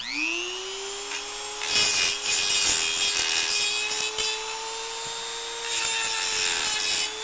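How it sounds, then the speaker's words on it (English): A rotary cutting tool whines at a steady high pitch as it grinds through the weld on a Springfield bolt release, with bursts of harsher scraping as the cut bites into the metal, all close and continuous. "There's a very easy way to tell when you're cutting on the weld and when you're cutting on the bolt assembly itself."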